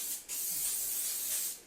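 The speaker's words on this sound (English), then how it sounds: "I always shake it up, apply just a couple of spritzes" Scalp soothing spray released from a pump bottle in two quick spritzes, close and crisp, a short airy hiss followed by a longer one with no talk.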